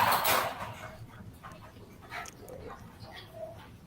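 An elderly small Shih Tzu dog gives a few short barks and whimpers at close range, fairly faint against light background noise, with no one talking.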